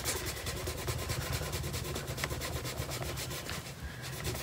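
A rag rubbed hard back and forth over a woodgrain-painted surface to wipe off white overspray, a close, continuous rhythmic scrubbing at a quick steady pace with no talking.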